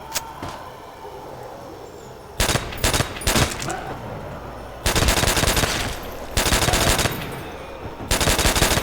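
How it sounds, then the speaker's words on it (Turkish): Rapid automatic gunfire in the Nazi Zombies video game comes in loud bursts separated by quieter pauses, with single shots early on and long sustained volleys later, no talk over it. "buradan uzaktan sıkıyorum da"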